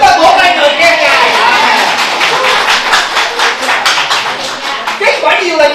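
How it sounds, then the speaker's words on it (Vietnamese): A church congregation claps loudly in praise of God, a dense, steady patter of many hands filling the hall for several seconds, with some voices and chatter mixed in beneath the applause. "Chúng ta vỗ tay người khen Ngài."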